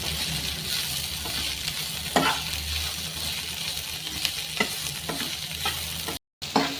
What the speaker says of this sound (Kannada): ಈಗ ಒಂದು ಅರ್ಧ ಬಟ್ಲು ಕಾಯಿ ತುರಿ ಹಾಕ್ತಾಯಿದ್ದೀನಿ, ಕೊತ್ತಂಬರಿ, ಪುದೀನ ಬಾಡಿಸ್ಕೊಂಡ್ಬಿಟ್ಟು